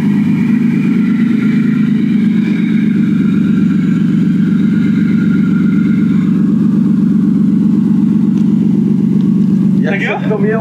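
Toyota Supra driving, a steady loud engine drone heard from inside the cabin with a constant low hum throughout; someone starts speaking briefly at the end.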